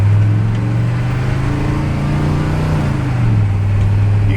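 Exhaust from a squarebody truck with a 6.2 engine fitted with new mufflers, a steady low droning rumble that holds close and fairly loud throughout with a slight rise and fall in pitch, no talking.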